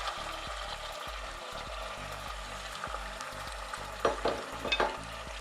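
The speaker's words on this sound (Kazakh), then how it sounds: "Май кішкене қызды, оған тауық етін салып" Diced chicken sizzles quietly in hot oil, a soft steady crackle under a low rhythmic thumping, with a brief louder burst of spatter near the end.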